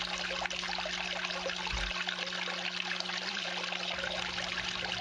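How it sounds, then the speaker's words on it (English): Water rushes steadily through a gold sluice box fitted with rifles, running at a higher flow than usual, a dense close wash with no breaks and no voices. "this is a little higher water flow than I would normally run this at"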